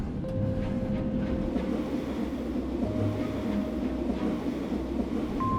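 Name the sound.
train running loudly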